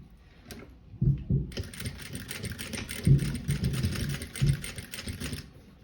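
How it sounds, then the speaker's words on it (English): A sewing machine runs a stitch along a seam on a mesh stash pouch, a rapid steady needle chatter starting after a second and continuing for several seconds with a few louder thumps. "have the edge of the presser foot against the edge of the seam there, and then just run a stitch down there"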